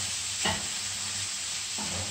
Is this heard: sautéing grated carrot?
yes